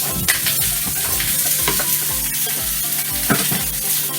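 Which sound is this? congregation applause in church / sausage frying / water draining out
sausage frying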